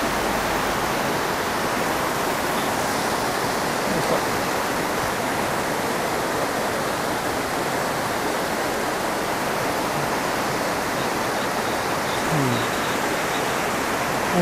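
Kumoi waterfall on the Oirase stream roars steadily, a loud, broad, unbroken rush of falling water heard from close by, with no talk over it.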